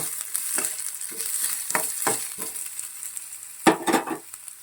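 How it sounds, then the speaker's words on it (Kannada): Onions with cumin frying in a pan toward golden brown, a continuous gentle sizzle broken by soft scraping stirs, with one sharper clatter near the end. "ಸ್ವಲ್ಪ ಈರುಳ್ಳಿ ಗೋಲ್ಡನ್ ಕಲರ್ ಬರೋ ತನಕ ಸ್ವಲ್ಪ ನೀಟಾಗಿ ಇದನ್ನು ಫ್ರೈ ಮಾಡ್ಕೊಳ್ಳೋಣ"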